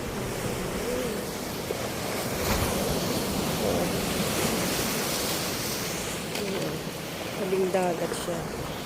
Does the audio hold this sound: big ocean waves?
yes